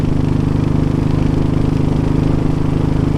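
A Royal Enfield GT 500 motorcycle engine thrums steadily while riding, a loud, close, even mechanical pulse with no break.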